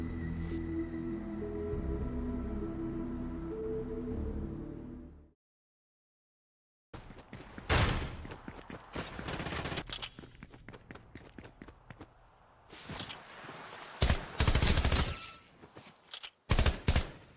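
Video game gunfire bursts in loud, dense rapid volleys after a few seconds of tonal music and a brief silence, with sporadic sharper shot peaks toward the end.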